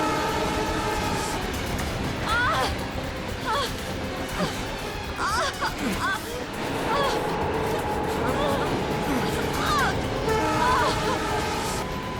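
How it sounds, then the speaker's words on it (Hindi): A train moves at speed with a continuous rumbling rattle of carriages, and horn-like tones rise now and then. Voices talk over it in a tense dramatized scene. "ट्रेन स्पीड पकड़ चुकी है।"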